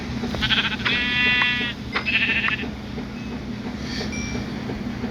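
Sheep bleating in Minecraft Pocket Edition (Bedrock), a few wavering bleats in the first two seconds and fainter calls later, over a steady low in-game background hum.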